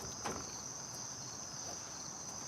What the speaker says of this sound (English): Hear the nice little crickets?